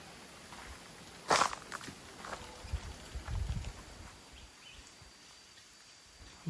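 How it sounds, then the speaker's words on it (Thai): Careful footsteps crunch and snap on twigs on a forest floor, quiet and close, with a few distinct steps against soft ambient background and no talking. "เหยียบโดนกิ่งไม้นะ"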